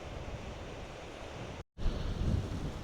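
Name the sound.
strong wind blowing in Glen Nevis, Scotland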